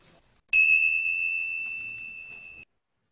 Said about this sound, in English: And we'll start with the little bells.